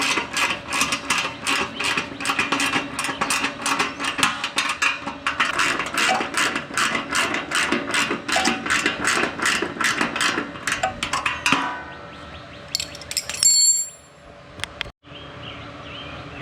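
Ratcheting and clicking from a wrench snugging 10 mm bolts and 13 mm nuts on a Legend Force 212cc rear tine tiller, a fast steady run of close, loud clicks for about twelve seconds, then a few scattered metallic taps and rustles.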